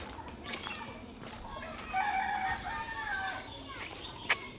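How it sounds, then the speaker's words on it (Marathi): A rooster crows at a moderate distance at a village home in Pavshi, Kudal, its drawn-out call rising over faint background noise, followed by a sharp click near the end. "कोंबडी बिंबडी भरपूर आहेत बाबा आमच्याकडे"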